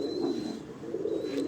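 Pigeons coo softly on a Lahore rooftop, a low murmuring call rising twice in quick succession, faint and close, with no talk.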